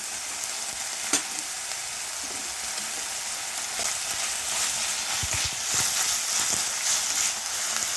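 Onions and green chillies fry in oil in a pan, a dense, continuous hiss with a few scraping stirs and clicks, close and unaccompanied by speech.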